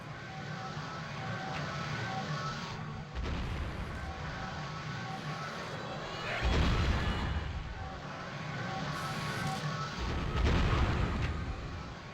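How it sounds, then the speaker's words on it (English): Enemies cast war spells in the Gauntlet video game, producing a steady wash of rumbling, blast-like magic bursts that swell into louder booming surges partway through and again near the end. "These guys just spam war spells at us."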